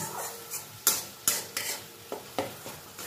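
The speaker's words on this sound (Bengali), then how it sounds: "টমেটো বাটা দিয়েও কিন্তু মশলার সঙ্গে খুব ভালো করে কষিয়ে নেব" Spices and tomato paste stir-fried in a pan on a low flame for a rui fish curry: a quiet, faint sizzle with a handful of sharp, irregular spatula scrapes against the pan, and no voices.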